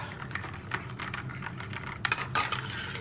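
A spoon stirs an iced matcha drink poured over ice, giving light clinks and taps against the glass and ice, a few louder knocks near the end, close and quiet.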